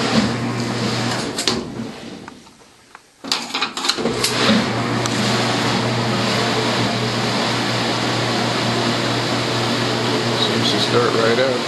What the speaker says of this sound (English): Okay, it just went into spin cycle.